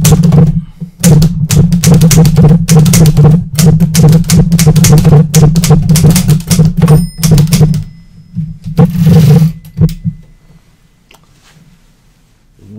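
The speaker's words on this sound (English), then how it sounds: "Wow, I forgot just how stiff these old typewriters are" Rapid, uneven clacking of stiff old typewriter keys, loud and close, with a low steady hum beneath; the strikes stop briefly, burst again, then fade to near silence.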